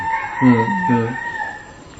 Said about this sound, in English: one just notices and thinks, oh, it's just a chicken.